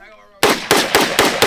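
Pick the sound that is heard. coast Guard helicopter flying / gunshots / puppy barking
gunshots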